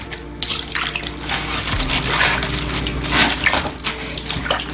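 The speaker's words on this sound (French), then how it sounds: "Après, je vais ajouter un petit peu de l'eau gros sel dessus. Encore mettre de l'eau salée." Salted water pours over cabbage during kimchi making in Korea, a continuous close splashing and gurgling stream with small surges, alone without talk.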